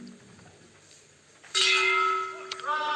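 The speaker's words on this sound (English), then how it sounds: "So there goes the bell." A boxing ring bell rings loud and clear to start a round at the 2021 ASBC Asian championships men's 91 kg final, ringing out sharply and sustaining, with a second strike soon after over faint arena background.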